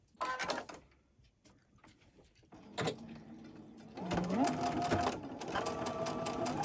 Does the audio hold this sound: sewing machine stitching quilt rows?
yes